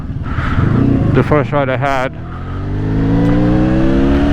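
Someone talks briefly. Then a Honda VFR1200F motorcycle fitted with panniers drones beneath him while riding, its engine note rising steadily and staying close and loud.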